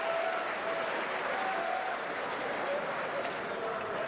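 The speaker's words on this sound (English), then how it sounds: "Sexton saying that he got a moral victory and all his fans are applauding him" Boxing fans in an arena applauding a heavyweight fighter after the bout ends, a continuous, even roar of clapping throughout, with a commentator's voice faintly underneath.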